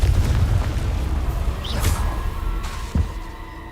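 A Confringo spell blast in the Hogwarts Legacy game, a heavy low rumbling boom that rolls on with crackling debris and a second thud near the end, loud and close.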